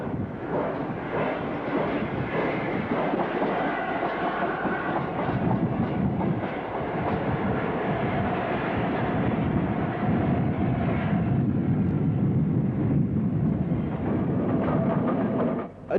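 Stanier-designed LMS 8F steam locomotive 46437, built at Eastleigh, running with a steady, loud rumble and rolling wagon clatter throughout, continuous and near with no voices.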